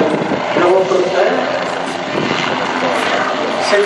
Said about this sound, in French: C'est aussi l'hélicoptère le moins bruyant du monde